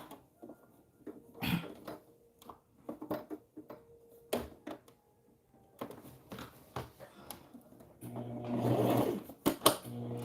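A sewing machine back stitching the end of a seam on a satin scrap-fabric bonnet, with scattered light clicks and handling noises before a short, steady burst of motor stitching near the end.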